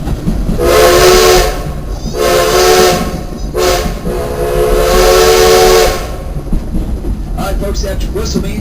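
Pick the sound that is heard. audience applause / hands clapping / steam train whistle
steam train whistle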